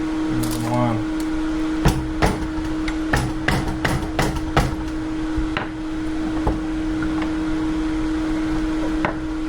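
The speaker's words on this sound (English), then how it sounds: "We'll curve it with a hammer." Hammer blows strike metal while WR450F fork seals are replaced in a workshop vise: a dozen or so sharp, uneven taps and knocks close by over a steady electric hum.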